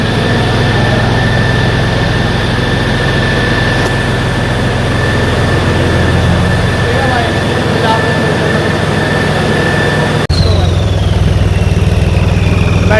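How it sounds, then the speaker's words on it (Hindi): A modified tractor's engine runs continuously close by, a loud, steady low rumble with a constant whine, briefly shifting in tone near the end. "Modified tractor."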